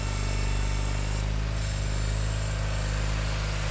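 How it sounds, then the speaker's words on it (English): A John Deere 318 garden tractor works through deep snow in a blizzard, its engine droning loud and steady at close range for the whole stretch with no pauses or talk. "I'll let you guys hear the 318 work here for a couple passes."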